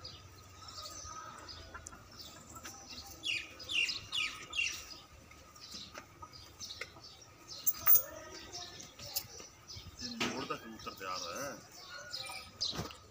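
Racing pigeons at a pigeon-flying contest give soft coos and flutters amid chirps from other birds, scattered and moderately near, with bursts of wing and body movement over steady outdoor background noise.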